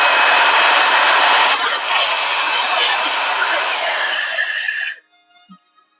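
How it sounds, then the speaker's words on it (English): A hairdryer blows steadily and loudly at close range, a dense whooshing roar that holds for about five seconds, then cuts off abruptly, leaving a few faint knocks and near silence. "I'm gonna have my noisy, bad Kansas hairdryer here."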